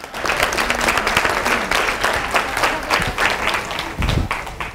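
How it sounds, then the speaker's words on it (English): A crowd claps in a full round of applause at a comedy show, dense and sustained from start to finish, with a brief low thump near the end. "Give them a nice round of applause one more time."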